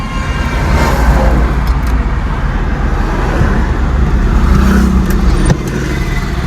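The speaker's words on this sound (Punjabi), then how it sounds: "ਲੋ ਕਰੋ ਸਟਾਰਟ ਗੱਡੀ" A driving school car at Phagwara runs with a loud, steady engine rumble close by, amid continuous road and traffic noise, with a brief click near the end.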